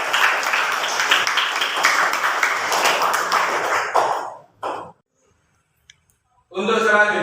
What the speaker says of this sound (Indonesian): Beri aplaus atau tepuk tangan untuk jawaban teman-teman kalian.